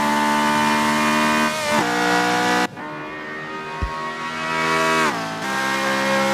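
Race car in Forza 7 on the Monza circuit, its engine screaming at high revs with gear changes that drop and climb the pitch, loud and close, and a brief thud partway through.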